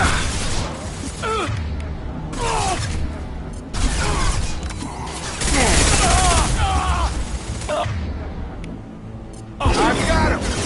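Gunfire in the video game Mass Effect 2, loud bursts of rapid weapon fire and mechanical clatter in several waves, mixed with shouted voices of squad members over the combat.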